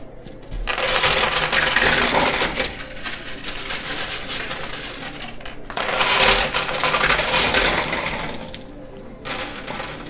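Poker chips and coins pour and clatter in a high-limit coin pusher arcade machine, in two long rattling cascades with a brief pause between them, loud and close over a mechanical hum.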